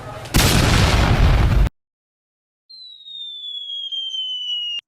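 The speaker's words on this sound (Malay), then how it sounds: "Batu tu yang meletup sendiri." A magic gold stone bursts in an animated folk-tale cartoon: a loud, roaring blast lasts about a second and cuts off into silence, then a thin high whistling tone with a rising pitch follows.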